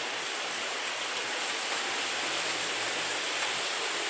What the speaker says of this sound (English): I'm going to water the soil and make mud